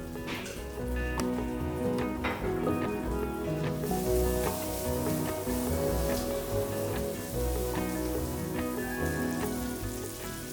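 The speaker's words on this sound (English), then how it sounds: "Next, I'll add the peas and saute for 3 to 4 minutes." Peas sautéing with garlic and onion in a kadai give a steady, close sizzle with soft crackles and occasional stirring clinks, no voices.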